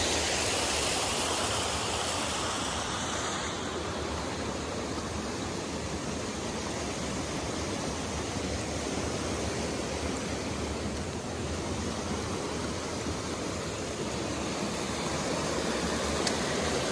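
Water rushes steadily over a park spillway, a constant loud broadband roar with no breaks and no voices.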